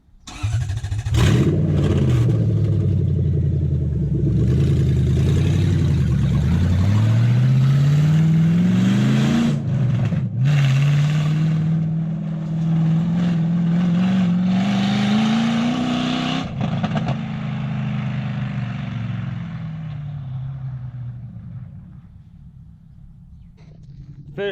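2007 Toyota Hilux Vigo 4x4 with a swapped 3UZ V8 engine and manual gearbox on its first drive, the engine loud and close, revving up and easing between gear changes for a long stretch while people talk over it.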